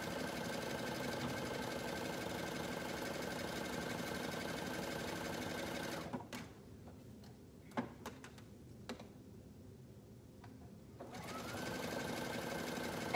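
A home sewing machine stitches fabric with a steady, close mechanical whir. It stops for several seconds, leaving a few faint clicks and taps, then starts running again near the end.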